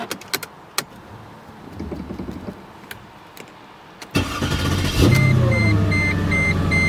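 A Mercedes C55 AMG being started, with quiet clicks and shuffling first, then the engine catching and settling into a steady, close idle rumble.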